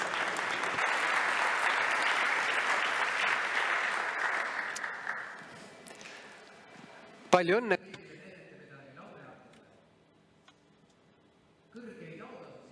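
An academic anniversary ceremony audience gives loud, sustained applause for about six seconds, then it fades as a voice speaks over quieter background.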